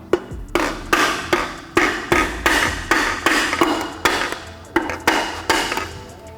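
Repeated sharp hammer blows knock a piston into a Toyota 1FZ engine block in a steady, uneven rhythm, around twenty hits close up with short ringing decays between them.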